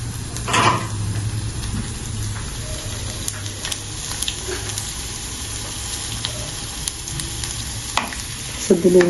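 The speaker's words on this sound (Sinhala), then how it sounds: "සුදු ලුණු ටික ටෙම්පරාදු වේගෙන එනකොට" Garlic sizzling in hot oil for a cauliflower curry, a steady, moderately quiet frying hiss with occasional stirring clinks and scrapes from a utensil in the pan.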